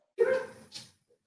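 Dogs barking indoors, heard as one loud bark followed by a shorter, quieter second bark and a faint yip, near and clear with no talking.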